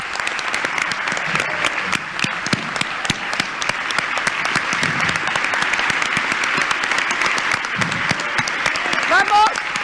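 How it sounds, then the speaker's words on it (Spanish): A political crowd applauds strongly for Héctor Recalde, a dense, steady wash of clapping for about ten seconds with shouts and voices rising through it near the end. "yo propongo un fuerte aplauso para ese compañero"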